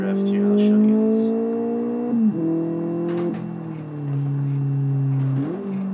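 A car drifting in the racing game Live for Speed, its engine droning steadily with pitch shifts as the revs drop and rise, joined by faint tire squeal.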